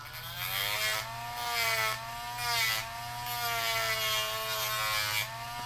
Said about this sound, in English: get your sanding bit, and let's get rid of this hook.